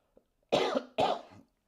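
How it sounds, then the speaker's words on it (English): Two harsh coughs in quick succession, close and fairly loud, preceded by a faint small click. "I'm going to cough like another 2 or 3 times."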